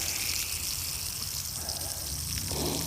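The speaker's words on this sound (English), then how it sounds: "drain all the water out of it" Water draining out of a flexible garden hose in freezing weather, a steady close gush and trickle running continuously, slightly rising near the end.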